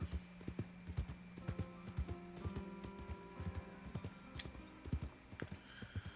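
Horse hooves clip-clop at a steady walking rhythm in Red Dead Redemption 2, close and distinct, with faint tack jingles and a low tonal hum beneath, no talking.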